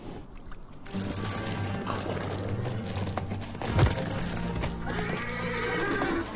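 Wild horses in Namibia neigh and whinny loudly at close range over a steady bed of stamping and clip-clopping hooves, with one sharp thud midway through the herd's commotion.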